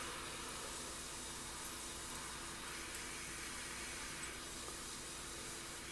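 An airbrush sprays paint onto a 1/48 scale Eduard Focke-Wulf Fw 190A-8 model with a continuous, even hiss of air that holds steady and close throughout, apart from a few faint ticks.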